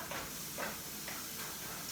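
Diced onions sauté in heated oil with a soft, steady sizzle and hiss, faint and continuous throughout with no talking.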